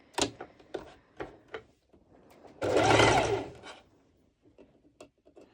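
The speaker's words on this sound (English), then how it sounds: "I will do a basting stitch over my sides of my underarms." A sewing machine runs a basting stitch along the sides of a duo mesh halter top, a steady whirring burst of about two seconds framed by scattered clicks and taps of handling, close and fairly quiet.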